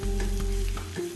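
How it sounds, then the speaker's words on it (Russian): Onion and garlic with flour frying in a pan while being stirred, giving a loud, close, steady sizzle with a few scraping stir strokes and no voices. "Обжариваю около 4 минут до золотистости."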